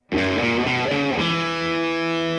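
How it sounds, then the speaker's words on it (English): A distorted, effects-heavy guitar chord rings out and sustains, its tone washed in heavy reverb as it slowly decays. "Do you hear that reverb on the snare drum and that effect on the guitar?"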